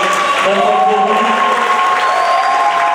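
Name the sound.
congregation cheering and applauding the Lord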